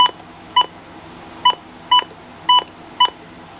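A Midland WR-100 weather radio sounds its alarm as six sharp, loud electronic beeps at roughly half-second to one-second intervals over a faint background hum.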